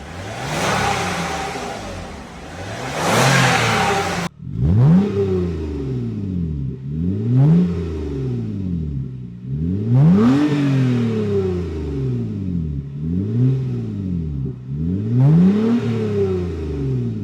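A 2007 Toyota Avalon with a rumbling rear exhaust runs close by. An opening burst of loud engine roar gives way to about five rising and falling revs, each climbing in pitch and then dropping back to a throaty idle.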